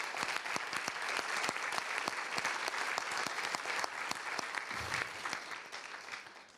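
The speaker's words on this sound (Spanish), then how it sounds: "Un aplauso grande a lo que surgió acá." An audience at an education dialogue panel claps in warm, steady applause, dense and fairly even, then slowly fades near the end. A faint voice comes through briefly near the end.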